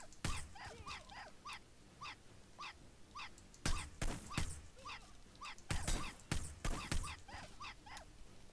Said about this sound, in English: You are a very, very bad dog.